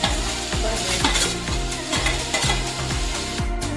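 Onion, tomato, ginger and garlic frying in a pan for chicken curry, with a steady loud sizzle under regular scraping strokes of a spoon stirring roughly every half second.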